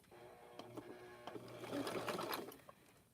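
A sewing machine stitching a rope basket with beads, a close mechanical whir that speeds up into a dense rapid run of stitches, then slows and stops.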